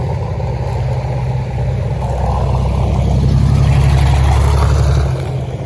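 Loud engines roar steadily close by, several dirt-track sprint cars rumbling past one after another with a rising, revving drone at Williams Grove Speedway.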